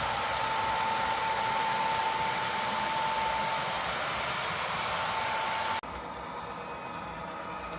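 Athearn SD-40 model locomotive with sound running on a layout, giving a steady loud hissing engine drone with a faint tone, which cuts abruptly near the end to a quieter hum.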